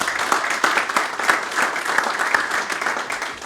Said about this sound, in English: another round of applause for the incredible mayor of Elk Grove Village